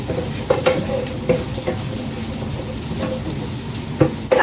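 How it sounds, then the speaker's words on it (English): A single onion stirred around in hot oil in a pan, with a steady loud sizzle and frying hiss broken by repeated scraping knocks of the utensil against the pan, close up and without talk. "So right now I'm going to add my 1 onion into the pan. I kind of stir it around, coat it a little bit with the oil."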